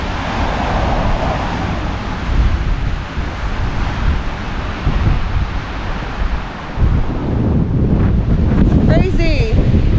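Strong storm wind roars around a parked RV, a steady loud buffeting broadband rush with gusts swelling and dipping throughout, and faint voices come through near the end.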